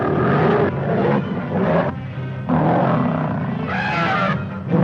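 A lion roars on the soundtrack of the 1933 film Tarzan the Fearless, in loud, rough, growling bursts that rise and fall with brief dips between them, with no talking.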